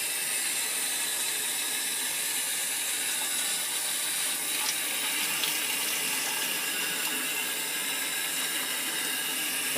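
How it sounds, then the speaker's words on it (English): Water gushes steadily from a tap in a continuous, even hiss with no pauses and no voices. "So hopefully there's some nice hot water"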